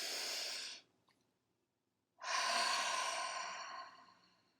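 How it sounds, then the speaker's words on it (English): A deep breath taken near the microphone: a long, soft inhale, a short pause, then a slow, audible exhale that fades out. "just take a deep breath"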